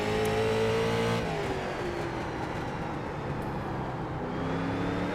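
Street stock race cars circle the Atlanta Motor Speedway Legends oval in the iRacing sim, their engines droning and revving in a steady, dense roar that dips slightly and swells again.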